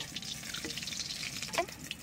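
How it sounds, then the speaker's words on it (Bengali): Water poured into ground coriander, cumin and turmeric spice paste while cooking a Bengali chital fish dish, a brief soft trickle and splash heard close up. "একটু জল দেবো"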